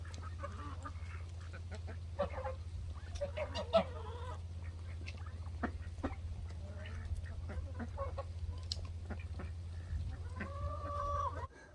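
Chickens, aggressive little birds, cluck and squawk in scattered bursts while pecking at a meat hind quarter, nearby and moderate over a steady low background hum.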